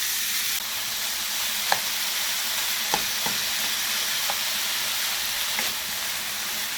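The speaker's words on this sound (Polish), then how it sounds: "Na rozgrzaną patelnię wrzucamy sobie mięsko i kiełbasę i czekamy aż wytopi się z leksza ten tłuszcz" Loud, continuous frying hiss of meat and sausage in a hot pan as the fat renders, broken by a few scattered pops and crackles of spitting fat.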